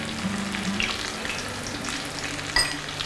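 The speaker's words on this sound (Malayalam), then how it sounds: "ജസ്റ്റ് ഒന്ന് സോട്ട് ചെയ്ത് കൊടുക്കുക." Onion and tomato sauté in a pan with turmeric, black pepper and fennel powder, giving a steady, close sizzle and frying crackle with a few stirring scrapes and one sharp clatter near the end.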